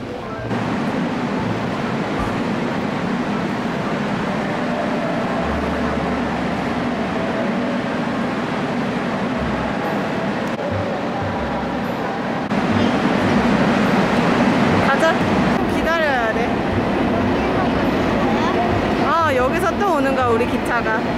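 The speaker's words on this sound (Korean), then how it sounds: "이제 여기로 칙칙폭폭을 타러 갑니다." A choo-choo train ride at a retro amusement park rumbles along steadily, its continuous clatter growing louder partway through, with faint voices and some high squeals near the end.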